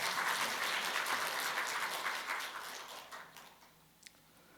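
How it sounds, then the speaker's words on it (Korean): An audience at a church award ceremony claps in a full, steady round of applause that gradually thins and fades out, leaving a faint final clap near the end. "박수 부탁드립니다"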